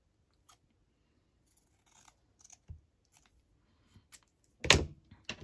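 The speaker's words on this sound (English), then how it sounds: "Using very bodgy scissors on that," Quiet snips of poor-quality scissors cutting a paper file folder: a few faint isolated cuts early, then a louder, closer crunching snip near the end, with silence between.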